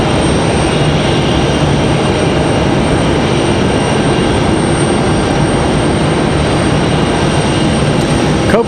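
A JetBlue jet airliner rolls for takeoff at Raleigh-Durham International Airport, its engines making a loud, steady, unbroken roar that fills the whole stretch.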